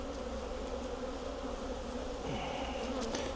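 A thick, constant buzz of many honeybees swarming around hives, close and even in level, with occasional individual bees zipping past; no one speaks.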